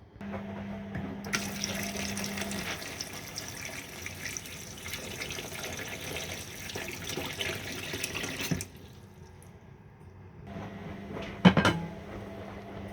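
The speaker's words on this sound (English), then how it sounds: "I'm going to pop the breadfruit in now, but I'm going to wash it first" Tap water runs steadily over breadfruit being washed in a kitchen sink while red peas soup cooks, a continuous hiss that stops briefly and resumes with a sharp knock near the end.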